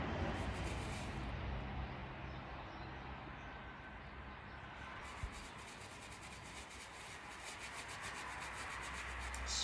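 Golf clubs being scrubbed to remove caked mud give a continuous, close abrasive rubbing noise, steady and fairly quiet, with one small knock midway.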